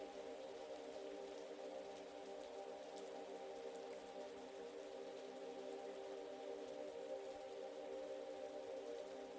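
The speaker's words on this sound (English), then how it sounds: "I can really hear the rain outside." Rain falls outside in a steady, even hiss of drops that keeps up unchanged throughout, soft and fairly distant, with no voices.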